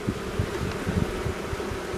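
Honey bees still flying around their hive in mid-November give a soft, steady buzzing hum with faint outdoor background noise and no voices.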